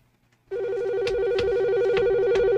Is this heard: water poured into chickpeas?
no